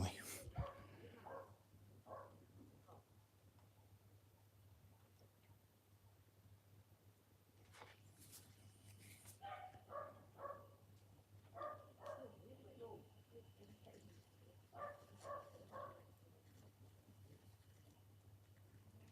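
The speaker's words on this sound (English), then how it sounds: "Sorry about the distant barking." A neighbours' dog barks in the distance in bursts of faint yips and barks, heard behind a steady low hum and some talk.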